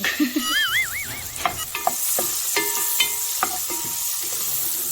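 Butter and oil sizzle in a pan for mussel soup, a constant crackle with scattered sharp pops and stirring ticks; a brief whistling tone sounds at the start.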